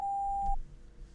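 A video game's modem-like server connection tone: one steady electronic beep holds for about half a second, then cuts off, leaving a low room hum behind.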